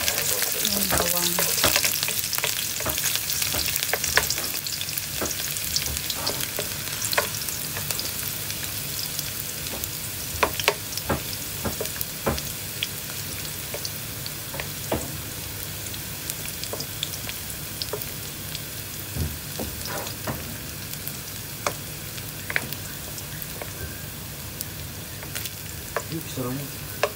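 Garlic frying in a pan for tomato-braised dried fish, a constant close sizzle with scattered crackles and occasional utensil clicks, no voices.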